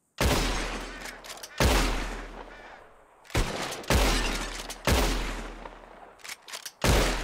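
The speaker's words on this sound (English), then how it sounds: "Whoever shoots more of these bottles wins." In Red Dead Redemption 2, a bottle-shooting contest brings a run of loud revolver gunshots, each burst followed by breaking glass, with several shots landing in quick clusters and brief pauses between them.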